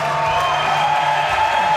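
A home crowd at a Paralympic para cycling event cheers and applauds a gold medal win, a dense steady roar of distant applause and voices with no break.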